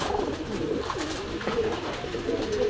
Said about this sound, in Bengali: দর্শক, এই দেখেন, ডাক দেখেন বাগদাদির